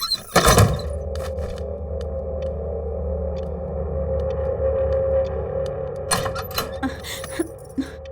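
A radio left switched on gives off a steady low electronic hum and drone that runs through the whole stretch, with a few faint clicks and knocks over the top.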